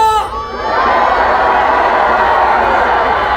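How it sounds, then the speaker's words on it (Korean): A large crowd at a political rally in Yeouido roars with sustained shouting and cheering, a loud, dense wall of voices that swells after a brief opening and holds steady throughout. "우리의 함성이 들리십니까?"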